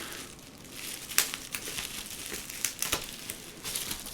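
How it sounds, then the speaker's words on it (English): Crinkling and rustling of a bullion shipping package being handled and pulled at, with several sharper crackles and tearing bursts, close by and fairly quiet. "Let me see if I can tear this open."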